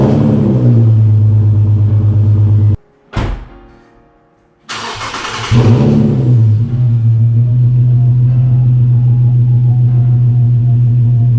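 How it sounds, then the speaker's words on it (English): A car engine idles with a steady low hum, cuts off, then cranks and fires back up with a quick rev before settling into a loud, even idle close to the microphone. "I'm gonna turn on the car"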